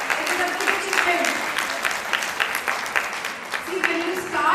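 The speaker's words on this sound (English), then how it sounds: "Please give a big applause." Applause from an audience at an Inner Wheel Club district assembly, a steady dense clatter of clapping that runs throughout at moderate level with background voices mixed in.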